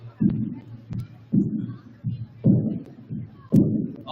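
A Native American powwow drum plays a double-beat song at a high school dance event, deep booming hits falling in paired strokes like a heartbeat at a medium tempo, loud and close.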